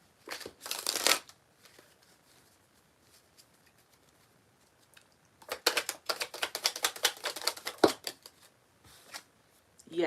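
Divine Guidance Oracle card deck being shuffled in close, crisp riffling bursts, one short flurry early on, then a longer run of rapid flutters and taps after a quiet pause.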